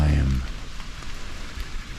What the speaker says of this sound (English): Right now it's a light rain.